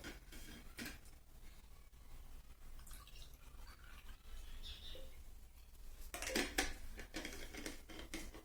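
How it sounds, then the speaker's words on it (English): Cold water poured into a second glass during a classroom heat-exchange demonstration, with a faint drip and trickle at the start and a brighter, louder splashing pour near the end. "In second glass I will pour the cold water."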